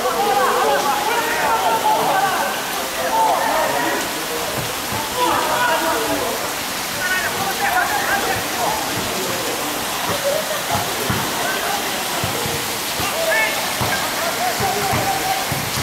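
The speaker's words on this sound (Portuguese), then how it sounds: "Aí Michael Laudrup tá jogando na chuva" Rain falling during a football video game match, a steady dense hiss filling the background throughout while a commentator keeps talking over it.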